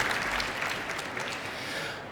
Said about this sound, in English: Maybe some applause for it.